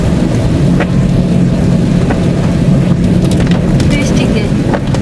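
Heavy rain pounding a car during a drive through Dhaka, a loud, dense, unbroken roar of drops with scattered sharper hits.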